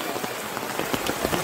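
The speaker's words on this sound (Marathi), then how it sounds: "शेवटी पाऊस लागलेलाच आहे" Steady rain patters densely and evenly on an umbrella held overhead outdoors near a waterfall picnic spot in Thane, a close, continuous wash of drops with no voices.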